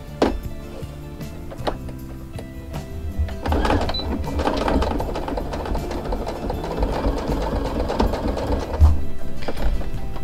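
A sewing machine stitches fabric for a baby shoe, a close, steady mechanical run of rapid stitching with scattered clicks and knocks, fading in after a few seconds and continuing without voices.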